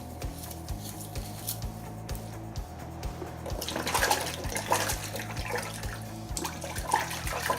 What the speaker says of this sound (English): This is very hot water actually, it's directly hot